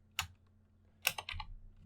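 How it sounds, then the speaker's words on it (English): Keys on a computer keyboard tapped close by while a Python command is entered: a short tap, a pause, then a quick cluster of clicks, all in a quiet room with no voices. "So if I just type python.exe"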